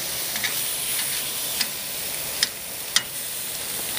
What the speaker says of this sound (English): we're doing our steaks on the grill grates again